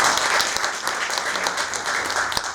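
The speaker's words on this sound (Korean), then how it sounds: "박수 한번 부탁드려요." A live audience at an economic outlook lecture breaks into steady, sustained clapping, a dense even patter of many hands filling the room throughout with no voices over it.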